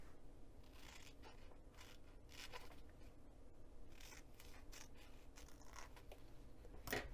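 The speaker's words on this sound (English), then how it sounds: "now it's time to cut the dart out" Scissors cutting through fabric to trim out a dart, a series of quiet, crisp snips and slicing scrapes at an irregular pace, close and faint with no talking.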